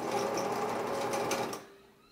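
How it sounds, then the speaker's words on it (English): Old-style sewing machine stitching through fabric for moccasin liner and trim, a fast steady mechanical whir and rattle that runs close and loud for about a second and a half, then stops abruptly. "lower the needle into the fabric and start sewing"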